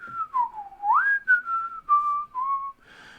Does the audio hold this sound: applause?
no